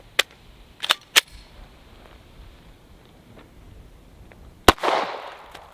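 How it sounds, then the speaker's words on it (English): Gunshots from a Glock 22 in .40 caliber firing 165 grain hollow point rounds: three sharp, loud cracks in quick succession, then a pause and a fourth loud shot with a brief ringing tail. "first shot is going to be the 165 grain hollow point out of a Glock 22 40 cal"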